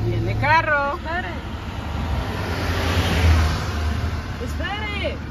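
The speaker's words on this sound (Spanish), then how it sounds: "Viene carro." A car approaches and passes on a road, its engine and tire noise swelling to a peak midway then fading, with a person talking at the start and again at the end.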